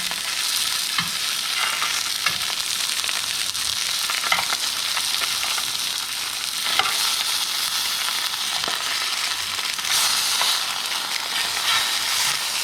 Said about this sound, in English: we need to turn the meat in the pan